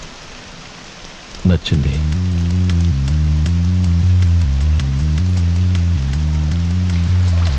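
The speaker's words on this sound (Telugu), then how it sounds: "నాకెందుకో ఈ వర్షం తగ్గేటట్టు అనిపించట్లా" A steady downpour hisses continuously in a film comedy scene, laid under a looping musical backing after a brief spoken word and a sharp bump.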